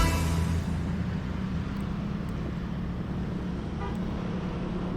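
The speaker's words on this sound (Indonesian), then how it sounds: "Kendaraan roda 2 dan roda 4 sangat banyak yang melintas di jalan ini." Busy road beside the Blang Padang field in Banda Aceh during a Ramadan market, with a steady wash of motorcycles and cars passing close by and a brief horn toot near the start.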